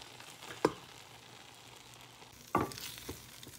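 Quinoa stirred in a pan, with two distinct scraping strokes of the utensil about two seconds apart over a faint background sizzle, quiet and close, with no voices.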